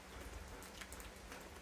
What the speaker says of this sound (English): I'm making this video on kind of a cooler, rainy day.